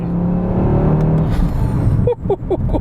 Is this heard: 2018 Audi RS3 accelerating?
yes